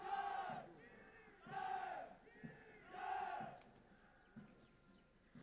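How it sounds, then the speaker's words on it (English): Military cadets cheering the passing out course at a review parade, three loud rhythmic bursts of massed voices shouting in unison, rising and falling with pauses between, heard from a distance outdoors. "They cheer the cadets of the passing out course"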